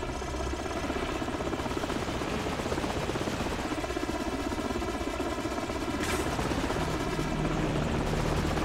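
Helicopter rotor chop and engine drone from Call of Duty: Modern Warfare, loud and steady throughout with dense broadband noise and a brief sharp burst near the end.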